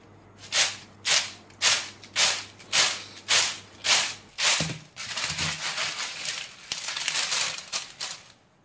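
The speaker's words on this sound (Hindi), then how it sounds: "और चिप्स की आवाज़ सुनिए आप" Crisp homemade potato chips crunch and rustle in a steady series of about eight loud, regular crackling bursts, followed by a denser continuous rattling shuffle, close by.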